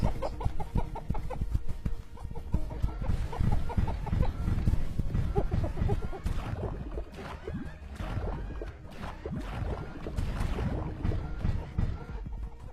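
Chickens cluck and squawk continuously in a video game, a busy overlapping chorus of fowl calls at steady loudness throughout.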